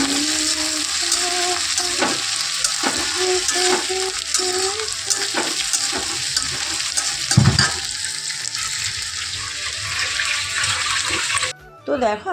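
Beans, carrot and potato frying in a pan, a steady loud sizzle with stirring and scraping clatter running throughout, while someone talks over it.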